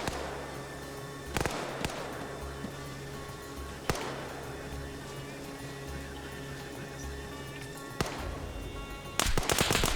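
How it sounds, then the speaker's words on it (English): RPG fire in a video game arrives as several sharp, loud blasts spaced a few seconds apart over a steady mechanical hum, with a burst of rapid bangs at the end. "I'm also going to grab RPGs and fire at them"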